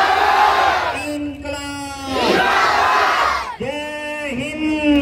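A dense crowd of the public shouts and cheers together, with loud chanted calls rising and falling in bursts and a brief dip in the middle before the voices surge again.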